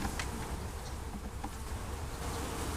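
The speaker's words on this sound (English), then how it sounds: "there's quite a few bees in here" Bees buzz continuously inside a hive during an inspection, a dense, fairly faint droning hum with occasional louder passes, no voices.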